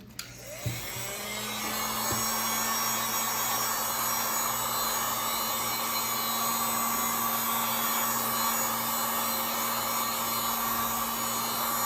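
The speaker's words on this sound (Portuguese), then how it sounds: "A gente vai usar o soprador térmico, né, para soltar a tela, dar um calor aqui." A loud, steady heat gun roars continuously after a click on, blowing on a Samsung Galaxy J6 phone screen to loosen it, a constant whooshing hum with a high whine, no voices.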